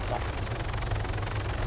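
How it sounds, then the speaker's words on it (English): A helicopter in the video game Arma 3 thrums steadily with rapid rotor chop over a low engine drone, loud and continuous through the short stretch. "Helicopter."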